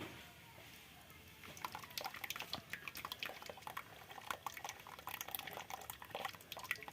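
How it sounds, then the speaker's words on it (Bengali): Hot, boiled tamarind seed glue is poured slowly into paint for coloring a Ganesh idol, making a soft, steady trickle and liquid splashing that starts after a quiet moment and continues faintly. "ঢাল ধীরে ধীরে ঢাল ওটা তেঁতুল বীজের আঠা দেওয়া চলছে রঙে অল্প অল্প"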